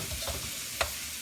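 Swiss chard steams and sizzles in a pan as it is stirred together with bacon, a quiet hissing fry with soft scraping and one sharp tick of the utensil.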